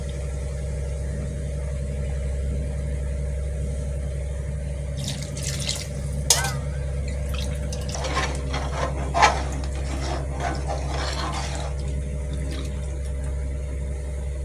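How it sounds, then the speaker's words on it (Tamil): Water is poured into rice for brinjal rice, about four measures of water to two of rice. Splashing and trickling come in bursts over a steady low kitchen hum, with a few light knocks. "இப்போ வந்து தண்ணி ஊற்றி போகிறேன்."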